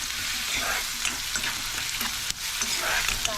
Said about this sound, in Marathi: कांदा आपण भाजून घेऊया